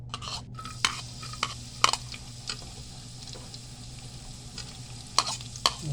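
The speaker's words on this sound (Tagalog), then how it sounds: "Ahos, siling espada ug luya. Guys, ato na ning igisa." Garlic, long green chili and ginger sautéing in a pan, with a steady low frying hiss under scattered clinks and scrapes of a utensil stirring against the pan.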